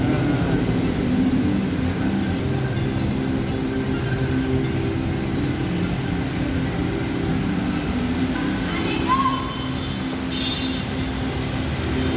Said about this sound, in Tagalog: Waiting tayo ng train going to Baclaran